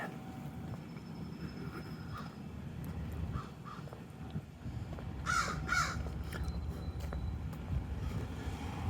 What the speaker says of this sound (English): See those crows?